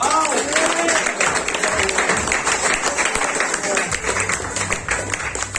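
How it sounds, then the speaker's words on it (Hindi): An audience at an agents' recognition event in Sharjah claps for an honoree, dense continuous applause throughout with a voice briefly over the start. "प्लीज उनके लिए ताली हो जाए"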